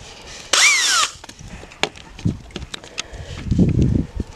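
A power drill or screw gun whirs briefly with a rising then falling pitch as it removes a crate from a wall on a farm, followed by scattered knocks and rustling near goats.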